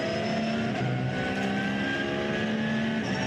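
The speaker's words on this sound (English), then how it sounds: "Great sound of the flat 6 in the background" Porsche flat-six race car engine during an endurance race at the Nürburgring, a loud, steady, sustained high-revving drone with shifting tonal whine, continuous throughout.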